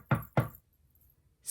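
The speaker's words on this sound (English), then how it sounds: "One day there was a loud knock on the door." Two loud, sharp knocks on a door, evenly spaced and close, followed by quiet and a brief hiss at the end.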